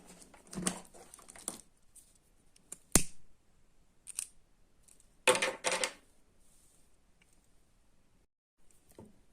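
Scissors snip through cord, a few crisp close cuts with short gaps between them in an otherwise quiet room.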